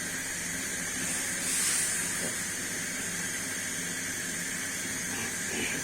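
Turmeric and chili spice paste hitting hot oil in a pan for a tengra fish and potato dish, a steady loud hiss of sizzling throughout with a brief swell partway, no talking.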